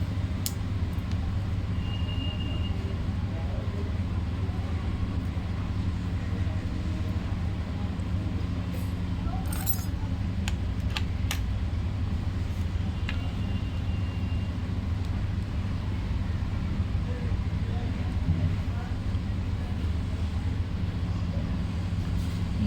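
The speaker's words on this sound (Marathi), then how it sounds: "मोटर चालू आहे मित्रांनो" A small 12V DC motor driving a mini fan runs with a steady, continuous low hum and whir, close and even throughout, with a few faint clicks.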